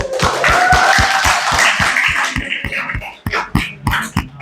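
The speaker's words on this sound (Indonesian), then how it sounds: "Tepuk tangan dulu." Classroom of students clapping for their teacher at the end of a lesson, a brisk rhythmic run of claps that thins out into a few scattered claps near the end.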